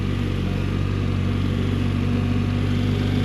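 A BMW R1300 RT touring motorcycle idles steadily with a smooth, even low hum, heard up close and constant with no voices over it.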